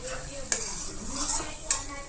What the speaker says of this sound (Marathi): त्याला छान हलवत भाजायचं.